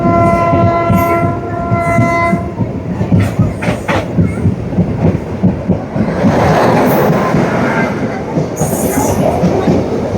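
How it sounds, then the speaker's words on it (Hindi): A train on the Uttaranchal Sampark Kranti route near Lal Kuan rumbles loudly past with clattering wheels, a sustained horn tone sounding at the start and rising rolling noise throughout. "देखिए सामने कोई ट्रेन खड़ी है"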